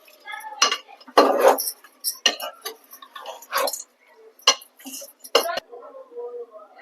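Turmeric powder and salt are mixed into chicken for dum chicken, heard as scattered metallic clinks and scrapes of a spoon against a steel bowl, sharp and close with short pauses between strokes.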